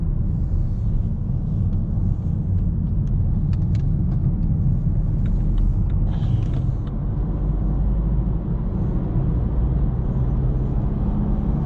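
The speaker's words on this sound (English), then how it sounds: "you can hear the engine" A BMW F30 316d diesel engine hums as a steady low rumble from inside the moving car, constant and moderately loud with road noise, no voices.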